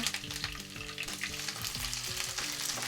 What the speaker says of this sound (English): Our bacon is popping.